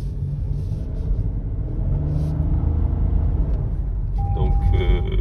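A Toyota Yaris Cross with a CVT gearbox drones steadily as it accelerates, a low continuous engine hum from inside the cabin, with a brief tone near the end.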